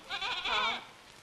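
A young goat kid gives one close, wavering bleat that lasts under a second, followed by quiet.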